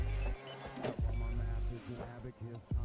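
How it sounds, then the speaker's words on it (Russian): Electric side mirrors on a Niva Urban fold in with a buzzing motor whine, several short mechanical runs heard close up while someone talks over them. "Все, зеркала у нас складываются."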